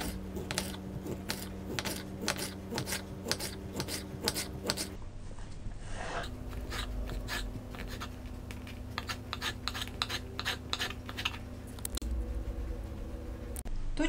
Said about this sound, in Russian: Куриное филе также нарезаем мелкими кубиками.